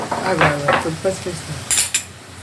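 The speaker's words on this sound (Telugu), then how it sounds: "ఇప్పుడు కీమాలో కొంచెం అల్లం వేసుకొని కలుపుకోవాలి" Minced meat keema with ginger being stirred in a pan, a short burst of metal spoon scrapes and clinks against the pan close by, after a brief murmured voice.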